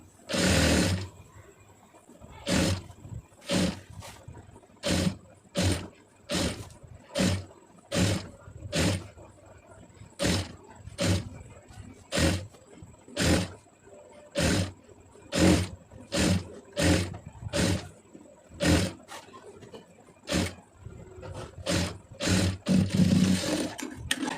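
A sewing machine stitching round the neckline of a plain blouse, running in many short, evenly spaced bursts of rapid stitching with brief pauses between, steady and close throughout.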